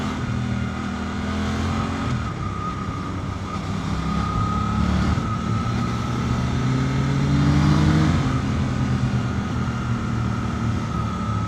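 A 2025 Suzuki GSX-8R motorcycle ridden through dense traffic among cars, its engine droning steadily with a gradual rise in revs under heavy wind noise, close and continuous.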